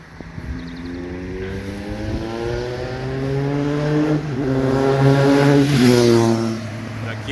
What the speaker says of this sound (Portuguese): Acabou passando a moto em alta velocidade.